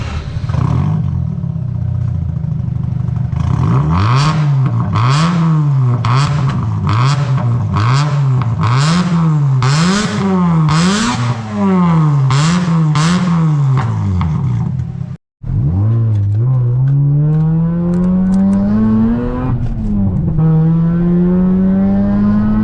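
A Mazda RX-8 rotary fitted with a Euro Arts stainless exhaust blips rapidly through a string of loud, close revs, pauses briefly, then climbs in one long sustained rev, with no talking.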